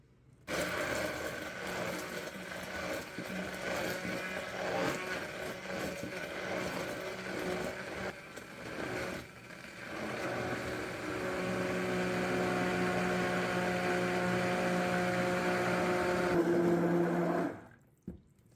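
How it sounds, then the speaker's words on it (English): An immersion blender whirs steadily and loudly as marinade ingredients are blended and oil is slowly poured in, its pitch settling into a higher, even drone in the second half before cutting off. "start by blending these ingredients and then slowly adding the oil in as the blender is running"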